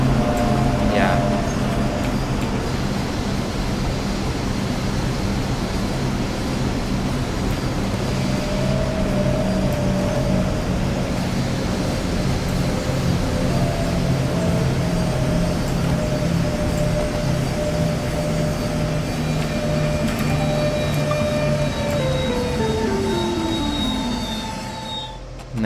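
An S-Bahn train accelerating through Leipzig, a steady rumble with rising motor whine and wheel squeal throughout, ending with a brief fade.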